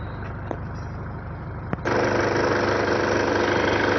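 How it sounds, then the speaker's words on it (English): A Toyota Hilux pickup truck engine with its engine light on idles steadily with a low, even rumble, growing louder and fuller partway through after a brief click. "So this is the engine running."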